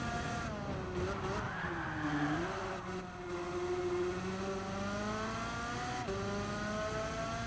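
Engine of a tiny car in Gran Turismo 7 revs high and steady, rising and dipping as it shifts through gears quickly on a large race track, with no talking.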